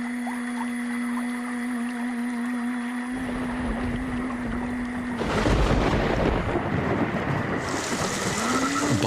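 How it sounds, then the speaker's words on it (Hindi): Monsoon rain falls in the Western Ghats, starting as a steady hiss and swelling into a heavier downpour with rumbling thunder midway. Insects or frogs drone in the background at first. "बारिश के पानी से नाले नदियां भरनी शुरू हो गई हैं।"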